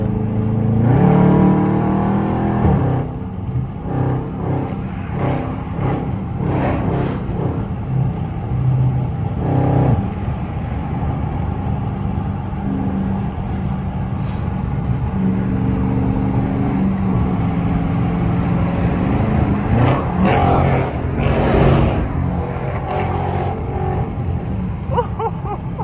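Catless Dodge Scat Pack V8 driving, the engine very loud and close, rumbling and surging through repeated revs and accelerations across a long stretch, with no clear talk.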